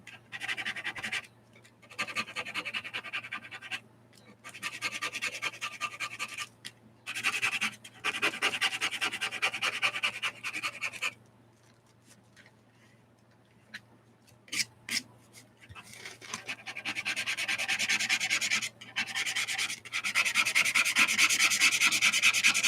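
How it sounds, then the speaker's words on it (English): Metallic paint being scraped off painted drop paper in repeated close, scratchy strokes. The strokes come in bursts separated by short pauses, with a longer quiet gap partway through and steadier scraping at the end. "But I scraped away the metallic-y part. So see, it scrapes off."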